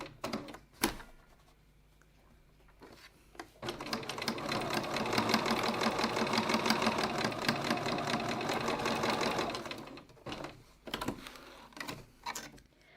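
A sewing machine stitches a leather wallet tab. Brief clicks come first, then a steady rapid run of stitching lasting several seconds, followed by a few isolated clunks and taps, all fairly quiet and close.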